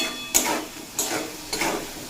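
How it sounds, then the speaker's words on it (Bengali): Malabar spinach stems with salt and turmeric being stirred in a pan: three separate scraping strokes with soft sizzling between them, quiet and close. "লবণ হলুদ দিয়ে 1 মিনিট মতো নাড়াচাড়া করে নিয়েছি"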